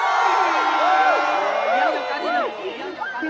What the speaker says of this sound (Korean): 2학년 소리 질러!